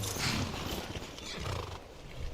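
Horses in Skyrim give a loud, close whinny early on, followed by scattered hoof clops and snorting shuffles as the animals come to a stop, with no voices.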